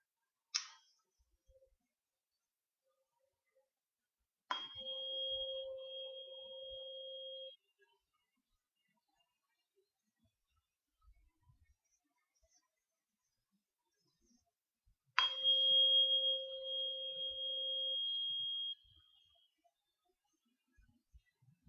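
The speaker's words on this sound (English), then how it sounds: "For those of you that are into tuning fork therapy, this is the 528 frequency" A 528 Hz tuning fork is struck twice, each strike a sharp attack followed by a clear, steady pure tone ringing for about three seconds, quiet against near silence.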